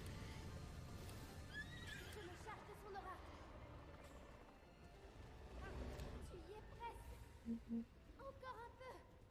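A horse in the Breath of the Wild video game whinnies and stamps, with clip-clopping hooves and game ambience kept quiet beneath faint talk by commentators.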